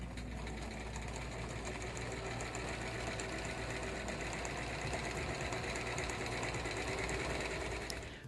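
A sewing machine stitches bias binding with a steady, continuous mechanical whir and fast rhythmic needle chatter, moderately quiet and with no voices.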